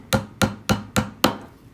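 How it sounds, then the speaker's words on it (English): A hammer tapping a paint can lid closed, five evenly spaced sharp knocks in quick succession, close and fairly loud with nothing else heard. "I probably should use my hammer to close that."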